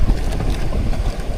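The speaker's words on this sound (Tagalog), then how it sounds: "Amihan tong hangin na to, amihan. Bigla mang lumakas ang amihan." Strong amihan monsoon wind buffets a fishing boat on the open Pacific, a loud, continuous roar of gusting air and microphone wind noise mixed with rushing sea, no voices.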